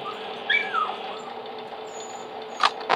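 A dog dies in the video game Fnaf 2 Revised, giving short whimpering yelps over a steady low hum, followed by a brief sharp burst near the end.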